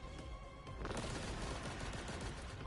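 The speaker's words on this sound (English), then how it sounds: "I'm firing my laser." A laser weapon fires in a video game with a dense, continuous barrage of crackling bursts that rises sharply after a brief quieter start and stays loud to the end.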